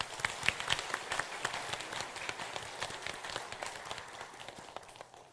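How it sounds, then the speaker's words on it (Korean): Church congregation claps in a soft, fairly distant burst of many hands, evenly sustained for several seconds and then fading slightly. "다시 한번 박수 부탁드립니다"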